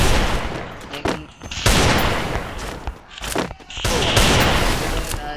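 Rapid bursts of video game gunfire crack loudly in several clusters, with short quieter gaps between the volleys and a voice talking faintly underneath.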